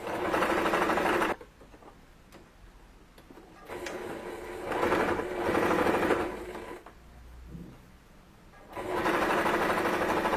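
A sewing machine stitches fabric for a ruffled dress in loud, steady runs close by, stopping and restarting three times with quiet gaps of handling between.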